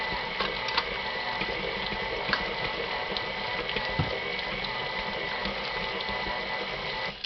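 Sugar cookie ingredients mixed in a bowl, likely with an electric mixer: a steady whirring, rattling hum runs throughout with small clicks and knocks, close and even in loudness.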